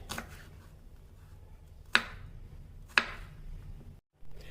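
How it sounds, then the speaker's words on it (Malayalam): Two crisp knife strokes through onions being halved for a Tamil Nadu style tomato chutney, each a sharp single chop about a second apart over quiet kitchen background. "ആദ്യം നമുക്ക് ഉള്ളിയെല്ലാം രണ്ടായിട്ടൊന്ന് കട്ട് ചെയ്തെടുക്കാം."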